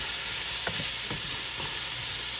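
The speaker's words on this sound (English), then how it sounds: "we're going to let this saute for about 7 to 8 minutes" Vegetables sautéing in a soup pot give a steady, close hiss and sizzle, with a few soft stirring knocks.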